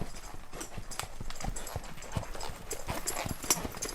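A ranch horse walks in circles and figure eights during a riding lesson, its hooves clip-clopping in a steady, fairly close rhythm, with faint background noise.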